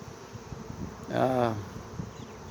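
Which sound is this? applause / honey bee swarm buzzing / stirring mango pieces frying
honey bee swarm buzzing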